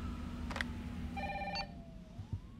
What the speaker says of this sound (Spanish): A ver el teléfono, que está sonando.